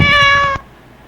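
A recorded cat meow played back by a phone app: one loud, clear, steady meow lasting about half a second, then cutting off abruptly to near silence.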